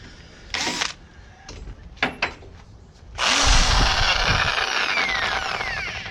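A few short clicks and bursts of a power drill, then a loud sustained whine as the bit grinds steadily into wood up close, drilling a hole for trailer guide poles.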